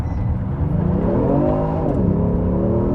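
A Genesis G70 3.3T engine revs hard and climbs in pitch as it launches with launch control and too much wheel spin, with a steady loud roar and a brief dip before rising again.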